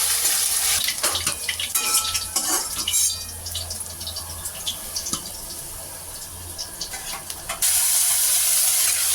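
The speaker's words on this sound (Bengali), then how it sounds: "আর এইভাবে আমি সব মাছগুলো ভেজে নিয়ে তারপরে তোমাদের সবাইকে দেখাবো।" Fish sizzle in oil in a pan with a dense, steady crackling hiss, broken by sharp clinks and scrapes of utensils against the pan, close and fairly loud throughout.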